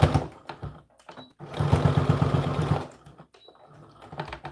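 A sewing machine stitching a seam on a doll dress, running in a short burst, then a longer steady whirring run of close, rapid stitching, then a few brief stops and starts.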